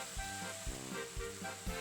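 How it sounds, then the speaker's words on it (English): Pasta and potatoes fry in a pan over low heat, giving a soft, steady sizzle with faint periodic pulses and a continuous background hum, fairly quiet and with no talking. "Keep frying them at low heat."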